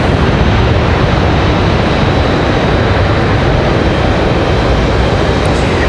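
A Copa Airlines airliner on its takeoff roll at Raleigh-Durham airport, a steady, loud broadband engine roar heard from a distance without letup.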